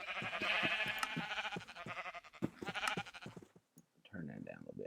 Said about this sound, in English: This is my automatic sheep thing.